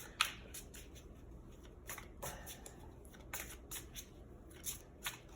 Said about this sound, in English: I guess if you don't like the shuffling, I can always shuffle the piles beforehand